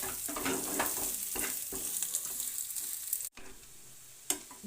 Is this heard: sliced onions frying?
yes